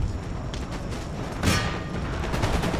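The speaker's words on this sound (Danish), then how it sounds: "Lad os bare få kanonerne til at fyre ned over her." Cannons fire in Empire: Total War during a Great Northern War battle with Swedish forces, heard as a dense, continuous crackle of distant gunfire with one louder boom near the middle and no talking.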